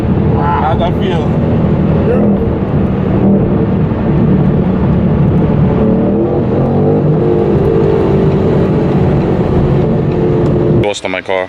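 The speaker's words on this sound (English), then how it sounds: "let's see how loud this race track edition catback from AWE is" Ford Mustang GT (2018-2019) fitted with an AWE track edition catback exhaust, its engine roaring loudly and continuously as the car accelerates, up close, ending with a brief sharper burst.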